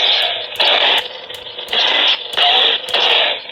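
Loud buzzing electronic hum from a replica lightsaber, punctuated by several sharp crackling clash effects triggered by striking the blade, each flaring brightly for about half a second, repeating irregularly.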